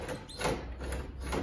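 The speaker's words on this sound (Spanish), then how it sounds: "Normalmente cuando una puerta la giras así," A door knob and latch being turned on a bedroom door with a faulty latch that fails to retract, giving a few soft rattling clicks and scrapes close by, with no talking.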